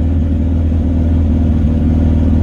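Mitsubishi Eclipse engine held at about 2500 RPM on a Speeduino setup, a steady loud low rumble close by with no variation and no speech.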